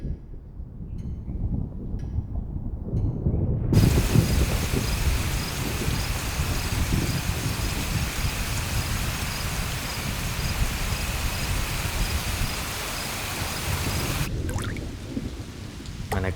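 Heavy rain pours in a steady, dense hiss with low rumbling thunder during a film scene, starting abruptly after a few quiet seconds and cutting off near the end, with no clear speech.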